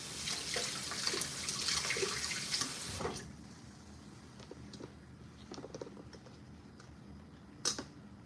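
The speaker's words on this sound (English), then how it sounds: "Okay, I'm gonna rinse my hair." Running water from a tap rinsing hair, a close hiss of flow for the first three seconds before it cuts off, then only faint scattered drips and handling noises.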